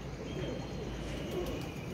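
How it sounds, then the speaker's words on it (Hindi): Pigeons coo faintly at a distance, soft low calls blending into steady outdoor background noise, with brief light fluttering and no clear talk. "ये कबूतर कुछ उड़ रहे हैं माशाल्लाह, सब के सब कबूतर ऊपर चले गए।"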